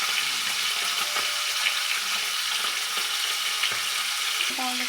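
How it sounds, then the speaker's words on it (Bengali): Pomfret fish pieces frying in mustard oil in a wok make a soft, continuous sizzle with faint scattered crackles, and a brief clink sounds near the end. "আর মাছগুলো ভেজে নেওয়া হচ্ছে।"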